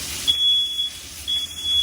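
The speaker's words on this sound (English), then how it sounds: "we were setting up the fire alarm" A smoke alarm emits two long, piercing electronic beeps, loud and close, over a low background hum.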